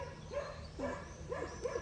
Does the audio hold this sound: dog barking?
yes